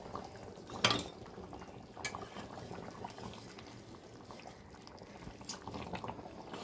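A special mutton curry bubbles and simmers in a pot, a steady soft boil with a few louder pops and a light clink of a utensil near the start.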